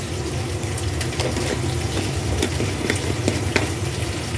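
Pieces of katla fish fry in hot oil for a Bengali fish curry with potatoes, a steady close sizzle with crackling pops running continuously throughout.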